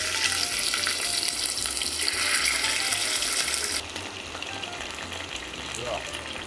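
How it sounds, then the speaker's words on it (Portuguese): Beef steaks for bife a rolê sear in a hot pan, giving a loud, continuous sizzle and crackle that eases slightly near the end. "Nós vamos começar aqui, Pedro, selando os bifes, o tempero é depois."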